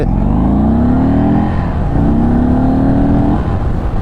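A 2022 Indian Chief Darkhorse cruiser motorcycle accelerates hard in second gear, its loud engine drone climbing in pitch, dipping briefly, then climbing again, heard up close from the rider's position with no talk.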